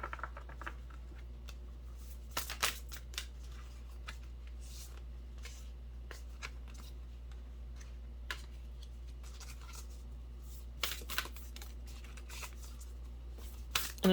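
Tarot cards are shuffled and drawn close up in a quiet room, with soft riffling patters and sharp card snaps scattered irregularly through a steady low hum; no one speaks.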